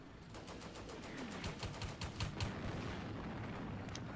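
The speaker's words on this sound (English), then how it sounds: "Artillery come back in again" An artillery barrage in the Combat Mission: Beyond Overlord wartime strategy game, fought between German and British forces, sounds as a dense, fairly faint scatter of distant booms and cracks over a steady battlefield rumble.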